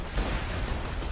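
Grenade going off in the game Borderlands 2, a loud rumbling blast with a dense low roar that fills the whole moment and holds steady without a pause.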